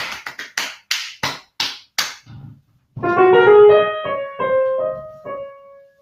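A teacher claps a rhythm with several sharp, close hand claps in an uneven pattern, followed by a few bright sustained piano notes from the D flat major scale.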